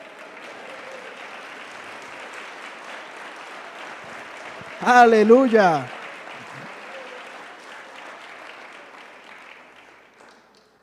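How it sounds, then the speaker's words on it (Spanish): Congregation applauding during an evangelical church service, a sustained wash of clapping throughout, with a loud shouted exclamation rising above it midway. "Dele un aplauso al Señor."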